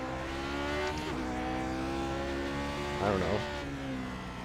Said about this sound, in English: I'm downshifting to second too quickly